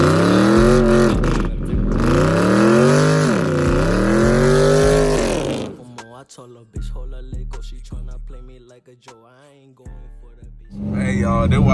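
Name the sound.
Dodge Charger SRT8 engine revving and accelerating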